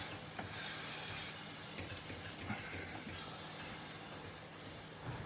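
Full tin of chopped tomatoes frying in a pan for an onion confit tart, a steady broadband hiss and sizzle running throughout at low level with no talking.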